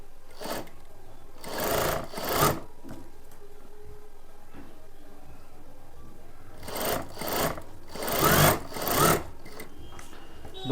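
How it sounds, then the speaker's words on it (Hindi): Sewing machine running long stitches along a folded blouse fabric edge, two short bursts of rapid mechanical whirring near the start and a longer stitching run later, close and clear with quiet pauses between. "फोल्ड करने के बाद इसके ऊपर हम सिलाई लगाएंगे। ये सिलाई हम लंबे टाकों की लगाएंगे"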